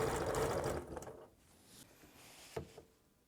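A sewing machine quilting circles on fabric runs in a quick buzzing burst, then stops, followed by a few faint mechanical clicks and knocks close by.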